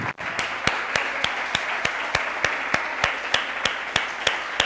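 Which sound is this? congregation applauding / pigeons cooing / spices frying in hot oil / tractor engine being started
congregation applauding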